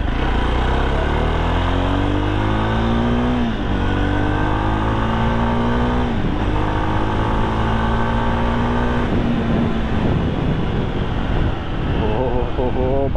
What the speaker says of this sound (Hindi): और हम बाइक चला रहे हैं